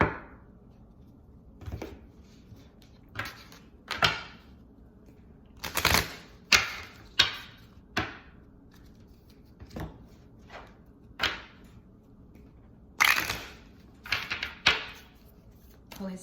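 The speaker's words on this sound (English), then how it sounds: "I'm going to pull a Moonology card to close up the reading." Moonology oracle cards being shuffled and pulled from the deck, giving soft papery riffles and sharp slaps in scattered bursts, close and fairly quiet against a hushed room.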